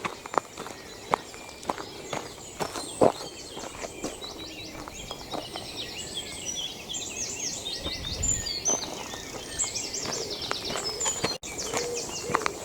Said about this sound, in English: I hear wrens, I hear blackbirds, I hear great tits, I hear wood pigeons.